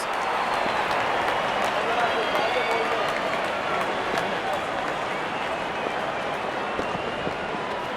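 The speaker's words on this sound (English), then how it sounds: "good innings, and gets a grand applause." An India vs. Afghanistan T20 cricket crowd gives a batsman sustained applause for his fifty, a steady, dense wash of clapping that holds evenly for several seconds.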